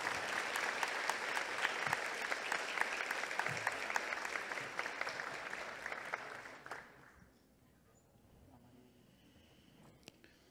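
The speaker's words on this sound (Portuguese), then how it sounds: "Uma salva de palmas, por favor." An audience at an architecture triennial event applauds with dense, sustained clapping for about seven seconds, then it fades quickly into a quiet room with a few stray claps.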